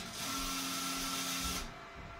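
An Epson F2100 printer powering back up, a steady mechanical whir with faint tonal hum running for about a second and a half before cutting off into quieter room tone.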